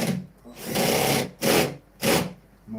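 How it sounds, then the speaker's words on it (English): A power drill boring slowly into wood in several whirring bursts, each rising and falling with short gaps between them, close and loud. "This is for drilling in wood"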